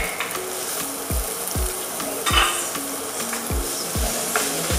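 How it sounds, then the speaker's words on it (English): Onions and mushrooms sauté in melting butter, a continuous close sizzle punctuated by regular spoon scrapes and knocks against the pan about twice a second. "we're going to start sauteing this"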